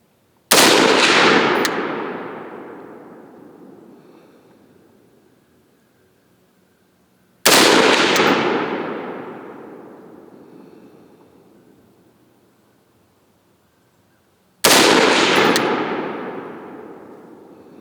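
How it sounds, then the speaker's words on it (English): Three sharp, loud AR-15 rifle shots at an outdoor range, each a crisp crack with a long echoing decay, spaced roughly seven seconds apart with quiet between. "So I like a 5-shot group just to really show where the rifle's grouping at."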